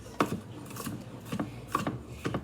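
A knife chops garlic on a cutting board in a kitchen, a handful of close, crisp taps at an uneven rhythm with no talking.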